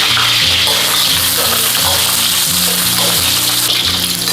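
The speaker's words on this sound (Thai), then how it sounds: "มะค่ะเราก็มาทอดส่วนของ พริกค่ะ ใช้น้ำมันไม่ต้องเยอะนะคะ" Chili peppers fry in a little hot oil, giving a loud, continuous sizzle and bubbling crackle that holds steady throughout with no talking.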